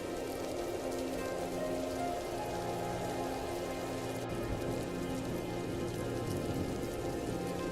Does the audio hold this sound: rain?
yes